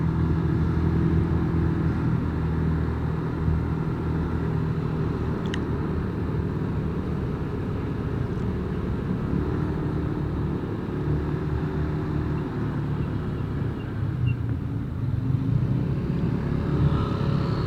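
Cars and motorcycles sit in a traffic jam on the Tawangmangu road. A continuous low rumble of idling and creeping engines carries on throughout, with no talking.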